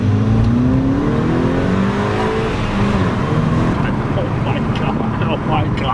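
A car with a newly installed APR intake accelerates hard, the engine note rising in pitch through several steps under steady road and wind roar, loud and close throughout, with no talking.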